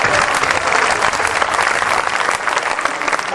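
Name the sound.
audience applause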